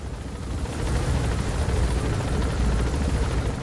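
A helicopter in the video game Metal Gear Solid V: The Phantom Pain, its rotors thudding in a heavy, rapid rhythm, loud and close, with a deep rumbling drone that holds steady throughout.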